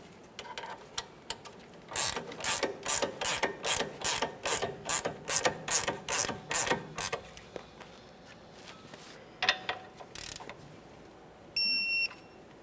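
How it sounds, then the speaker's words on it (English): A ratchet tightens a sway bar link mounting nut on the front suspension of a 2014–2019 Toyota Corolla, producing a fast, close run of about fifteen clicking strokes. A few scattered tool clinks and a brief beep follow. "We'll snug this up and torque it to 55 foot-pounds."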